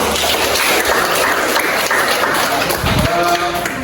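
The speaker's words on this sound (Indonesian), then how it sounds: "Kita beri tepuk tangan dulu untuk hari ini" An audience claps at a school teaching-practice session, a dense and steady wash of applause that stays loud for the whole stretch.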